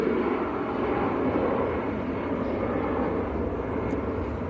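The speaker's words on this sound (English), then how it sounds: "we've got the KLM taxiing out as well" A KLM airliner taxiing at Manchester Airport gives a steady, broad jet-engine rumble and whine that holds level throughout, moderately close and without pause.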